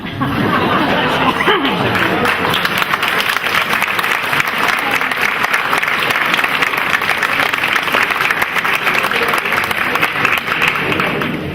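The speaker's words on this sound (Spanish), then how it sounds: "aplaudir todo lo que quieran" Dense, loud applause from a large crowd, steady and sustained throughout with some chatter and laughter mixed in.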